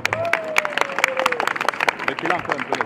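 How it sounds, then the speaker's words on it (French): A crowd claps together in brisk, dense applause, with a few whoops and voices rising through the noise. "Maintenant, applaudissez très fort pour moi."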